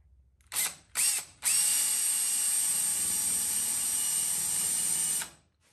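A power drill bores into a kitchen oven panel while a DIY powder-coat curing oven is being built: two short bursts, then a steady, loud, high whine held for about four seconds before stopping, with no talk.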